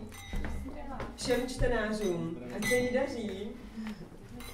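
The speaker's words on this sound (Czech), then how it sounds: "A ještě s maminkou jsem si neťukla" Glasses are touched together in a toast at a book launch celebration, giving a few light clinks beneath someone speaking warmly.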